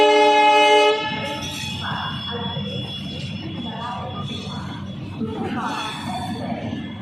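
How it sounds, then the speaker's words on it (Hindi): The Delhi Sarai Rohilla Jan Shatabdi Express arrives at a station platform: a loud train horn blasts for about a second, then rumbling wheels and carriages roll past under a voice speaking Hindi. "तीन नंबर प्लेटफॉर्म पर अराइव करती हुई आज दिल्ली सराय रोहिला जन शताब्दी।"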